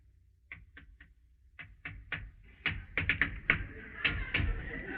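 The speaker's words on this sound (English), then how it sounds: "Answer the door, Margaret." Knocks on a door in an old radio drama, several sharp raps coming in quick irregular bursts, growing louder and denser toward the end, with faint voices and room noise underneath.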